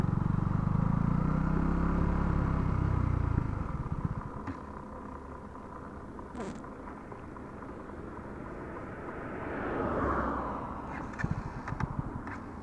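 A KTM Duke 200 BS-6 motorcycle on a mileage test ride, a loud low engine rumble at first that drops away to a quieter steady ride with wind and road noise, engine swelling again near the end.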